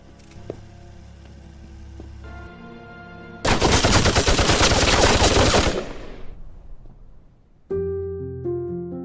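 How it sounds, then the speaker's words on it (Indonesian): Loud burst of rapid gunfire in a China-Japan war film scene where soldiers are shot, a dense roar of shots lasting about two seconds between quieter tonal score passages. "Tapi karena menolak, mereka semua ditembak mati di depan wartawan Jepang."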